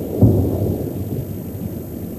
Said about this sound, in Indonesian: Sebuah ledakan hebat menggetarkan benteng pertahanan kelompok separatis pro-Rusia di kota Donetsk, Ukraina.